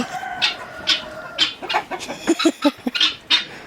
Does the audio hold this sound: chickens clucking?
yes